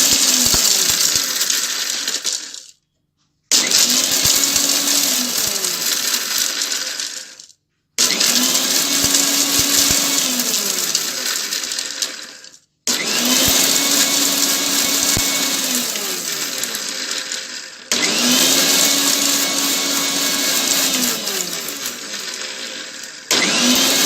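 A mixer grinder whirring through Bombay sandwich masala spices and salt in loud bursts of several seconds, each cut off by a brief silence before the motor whines back up, run in a start-stop pattern.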